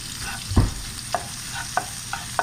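Garlic, shallots and parsley cooking in butter in a pan, a steady soft sizzle broken by a heavier scrape and then several light, evenly spaced stirring taps.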